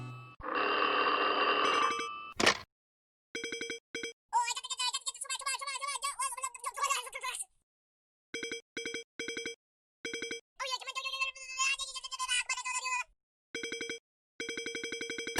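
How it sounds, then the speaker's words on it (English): A telephone rings in a video game, with bursts of repeated electronic ring tones, short regular chirps and a sustained jingle, loud and clear with no talking over them. "Now we get the phone call."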